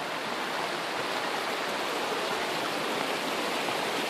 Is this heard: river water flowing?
yes